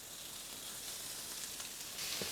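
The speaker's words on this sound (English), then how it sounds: "you don't really need any fat when you're frying bacon, because it has so much own fat" Pork belly bacon slices sizzle and fry in a hot pan with no added fat, a steady close crackling hiss that swells slightly louder near the end.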